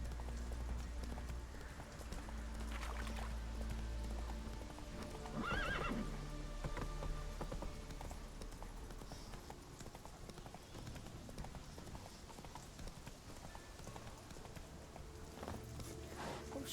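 Roach, the horse in The Witcher 3 video game, moves along with quick rhythmic clip-clop hoofbeats and lets out a short neigh partway through, over quiet in-game ambience.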